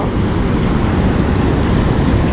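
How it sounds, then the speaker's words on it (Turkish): Ocean waves rolling in on Sri Lanka's south coast near a fishing village, a steady loud roar of surf with constant wind buffeting the microphone and no clear individual breaks. "Dalgayı görüyor musunuz bu arada? Evet. Gümbür gümbür geliyor."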